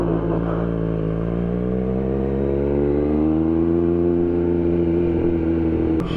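Engine of a 2024 Triumph Street Triple RS motorcycle under way, a steady close drone whose pitch rises slightly and holds throughout, with no talk.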